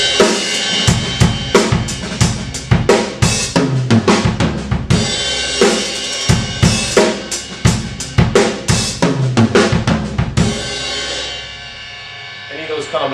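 A drum kit plays linear fills over a groove, snare, toms and kick hitting in rapid single strokes on top of ringing cymbals, repeated several times before a crash rings out and fades.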